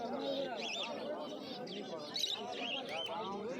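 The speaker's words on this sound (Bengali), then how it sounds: "প্রচুর ফিঞ্চ পাখি রয়েছে, হোয়াইট ফিঞ্চ।" White finches chirp in a crowded pet market in Uluberia, with bright twittering calls scattered through the clip while someone talks over them.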